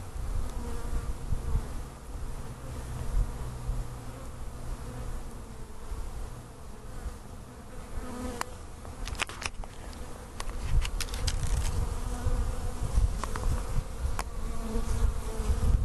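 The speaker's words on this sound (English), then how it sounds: "Here's a close-up of these bees." Honey bees buzz steadily around their hive entrance, a dense close-up drone with scattered louder passes and light tapping, no voices.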